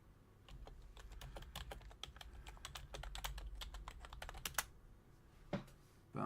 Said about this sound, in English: you can hear me typing on the keyboard and everything now